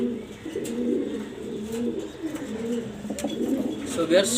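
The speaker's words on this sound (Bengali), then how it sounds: "খুবই সুন্দর আনকমন এক পেয়ার কবুতর চুইটাল গররা কালো সাদা" A pair of black and white Chuital Gorra pigeons coo in repeated low, throaty phrases that are close and moderately loud, with faint scuffs and small clicks around them.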